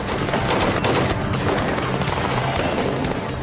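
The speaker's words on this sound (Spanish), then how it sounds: "Los soldados ugandeses riegan los vehículos con sus ametralladoras, obligándoles a detenerse a 70 metros de la terminal." Dense, continuous machine gun fire, with overlapping rapid bursts that fill the clip loudly and without pause as soldiers shoot at vehicles.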